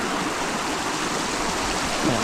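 A river at the East Fork near the SM Mine rushes steadily past scattered mine pipe, a close, continuous broadband roar of flowing water with no voices.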